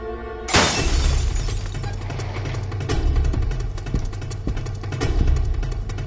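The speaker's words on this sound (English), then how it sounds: "hears the shattering glass" A sudden loud crash of a sliding glass door shattering, followed by scattered tinkling and crunching of falling shards over a low rumble.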